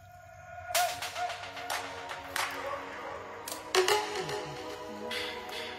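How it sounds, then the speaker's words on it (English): Sharp wooden knocks as a piece of wood strikes hollow tree roots in bursts, a few spaced hits, against a quiet Amazon rainforest background with faint birdsong. "Hitting the roots like this is used for communication across the forest floor."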